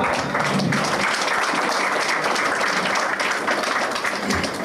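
At a farewell for students selected into the Indian Army from a defence academy in Sidhi, the audience applauds loudly and continuously, a thick, sustained wash of clapping with no break.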